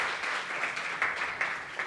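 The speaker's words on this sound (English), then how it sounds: "Let's keep clapping until Tobias gets to the" An audience at a youth pre-conference claps steadily in a hall, a brief continuous patter of hands at moderate volume with no voices over it.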